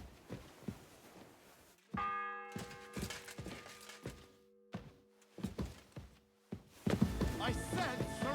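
A church bell tolls in the medieval game Kingdom Come Deliverance 2, striking once with a long ringing decay amid scattered thuds and footsteps, and more layered sound near the end.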